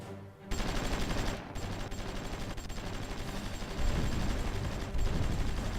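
Artillery fire in the strategy video game Supreme Ruler Ultimate, a dense, continuous barrage of booming blasts and rattling shots, loud and near, with a brief lull before the heavy firing resumes and intensifies.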